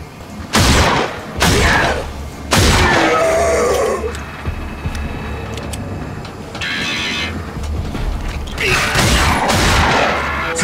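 Gunfire in the video game RAGE: several loud, sharp shots and blasts spaced irregularly, then a burst of rapid fire, over a mechanical rumble of a vehicle.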